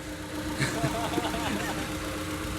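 A car engine idles steadily under an open hood with a constant low hum, and a voice is briefly heard over it.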